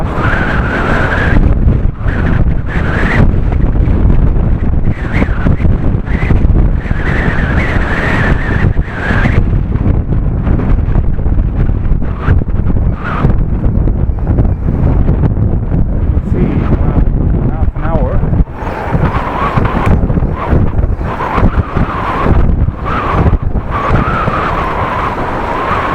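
Very heavy wind roars against a cyclist riding on a road, a loud continuous buffeting rush across the microphone with gusting surges, while a voice talks intermittently over it.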